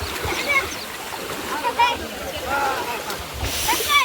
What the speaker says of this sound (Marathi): आम्ही या पाण्यातून चाललो एवढ्या